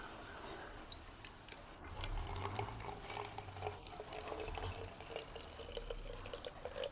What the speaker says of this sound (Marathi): तर चला आपण ओतून घेऊया ह्याच्यात.